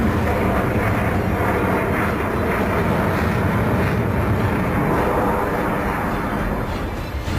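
A Sukhoi fighter jet's engine roars loud and steady, a dense continuous rumble and hiss that holds without break from start to finish.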